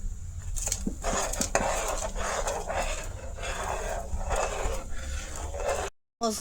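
Coconut laddu mixture of grated coconut, milk and palm sugar candy is stirred in a pan at close range, with steady scraping and clinking of a utensil against metal and a brief break near the end.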